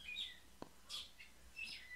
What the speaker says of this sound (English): Those birds are going crazy as all hell